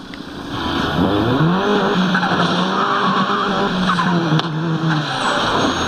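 A racing car engine, an Audi A1 in Need for Speed: Most Wanted, whines and revs while tires squeal in long skids, loud and continuous, with a synthetic, game-like quality.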